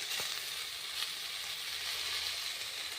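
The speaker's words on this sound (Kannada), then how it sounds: "ಈಗ ಇದಕ್ಕೊಂದು ಸ್ಪೂನ್ ಎಣ್ಣೆ ಹಾಕ್ಕೊಂಡು ಹುರ್ಕೋಣ." Pundi greens fry in a spoonful of oil, giving a steady, even sizzle throughout with no talking.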